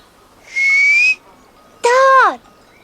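A person whistles two clear, sustained notes: a steady tone, a short pause, then a second note that starts higher and glides downward before stopping. Both are loud and close, with no talking.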